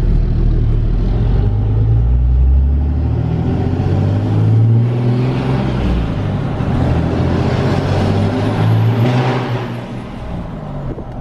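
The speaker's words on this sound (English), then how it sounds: "I just did a pull in this truck" A diesel pickup truck with a 6.7L Cummins engine and dual disc clutch pulls hard and steadily through about ten seconds of acceleration, loud and close, easing off near the end.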